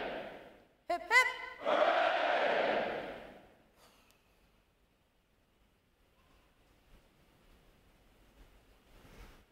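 Navy recruit graduates at a training command graduation roar a loud group cheer in unison, a sharp shout followed by a long sustained hooray that fades into quiet crowd noise.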